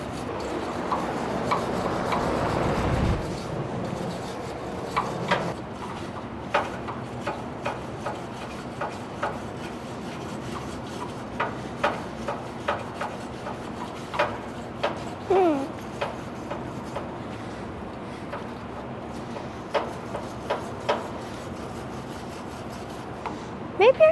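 A wire brush scrubbing metal clean around a crack before welding, with repeated short scraping strokes in uneven bursts, close, and voices talking at times.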